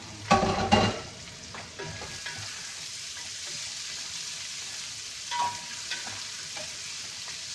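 Chicken frying in a pan with garlic, onion and spicy chili for chicken caldereta, a loud burst of stirring and sizzling at the start settling into a steady, softer sizzle with occasional scrapes.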